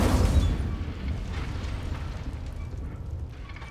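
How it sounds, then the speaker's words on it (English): An Incendio fire spell blasting in Hogwarts Legacy, a loud rumbling burst at the start that settles into a sustained roaring, crackling rush of flame, fading gradually. "Incendio."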